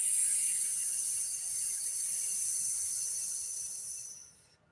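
A long, steady hissing exhale imitating a snake, a thin airy breath held for several seconds and fading out at the end, quiet and alone.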